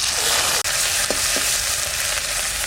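Onion paste hits hot oil with dried chillies, cumin and garam masala in a pan, giving a loud, steady sizzle and crackle up close with a couple of faint utensil taps, and no talk.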